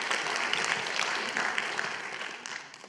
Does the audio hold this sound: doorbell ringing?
no